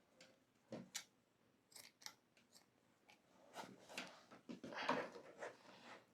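Scissors snip through chunky tie-dye T-shirt yarn during crochet work, giving a series of quiet, close, irregular crisp cuts and rustles spaced over several seconds.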